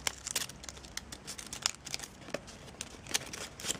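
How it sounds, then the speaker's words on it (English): Origami paper being folded into a macaw parrot model: soft, irregular crinkles and crisp creasing taps close by, scattered through a quiet room with no talking. "we're going to get these two edges here and we're going to fold them down"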